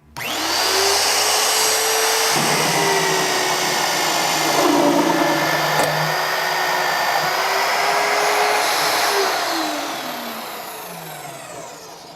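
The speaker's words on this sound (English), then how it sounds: "turn on the drill with the Easy Touch panel" A powerful magnetic drill whines steadily at high speed, its pitch sagging and recovering as it cuts a hole through steel, then winding down at the end.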